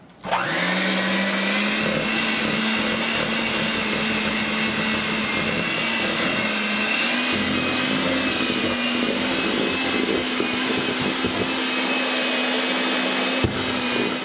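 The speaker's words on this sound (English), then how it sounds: "Now I'm gonna mix this up." An electric hand mixer runs steadily for the whole stretch while mixing pumpkin bread batter of eggs, pumpkin and vanilla, giving a continuous loud motor whine that dips slightly in pitch partway through, with no talking.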